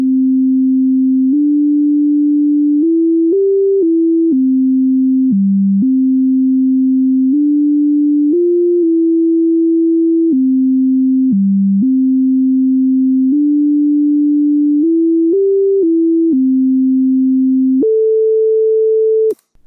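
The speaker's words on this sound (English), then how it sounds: "You all know how Pop Goes the Weasel sounds." A synthesized sine tone plays the melody of Pop Goes the Weasel as a single pure note line. Each step moves cleanly from pitch to pitch, loud and steady, and the tune ends abruptly on a held higher note.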